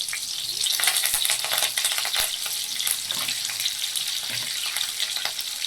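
Curry leaves crackling and sizzling in hot oil in a pan for sambar rice, a dense, bright spitting sizzle with sharp pops, close and loud throughout.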